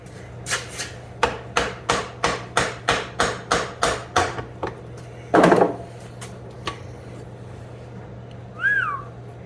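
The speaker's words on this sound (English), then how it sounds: "Mallet time." Mallet strikes on a transmission part of a 1984 Toyota Tercel 4WD wagon in a garage, about a dozen sharp, evenly spaced knocks, then a louder clatter and a short whistle.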